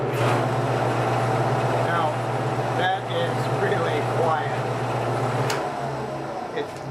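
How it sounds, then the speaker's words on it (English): A dust collector runs steadily beside a wood lathe in a woodworking shop, a constant low hum with a faint whine underneath while someone talks over it; the hum drops away near the end. "Then we'll check to see how well the dust collector is able to pick up the shavings."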